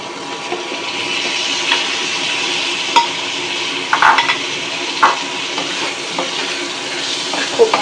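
Water spinach and small shrimp stir-frying in a pan for Bengali kolmi shak bhaji, a steady broad sizzle with scattered scraping clinks of a spatula against the pan.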